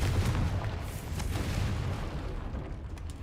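A Confringo fire spell blasts in Hogwarts Legacy, a heavy booming burst with deep rumble up front, followed by crackling, fading debris and trailing noise.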